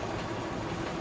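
A commuter train pulls into a suburban station at night on the way to Kurla, giving a steady, dense rumble and hiss that fills the moment.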